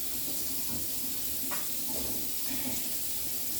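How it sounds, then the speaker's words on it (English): Tap water runs steadily into a sink while a PowerXL juicer part is rinsed beneath it, a continuous close hiss and splash with no speech. "Now I'm gonna rinse out this piece as well."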